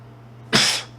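A single sharp sneeze bursts out close by after a moment of quiet, then trails off quickly.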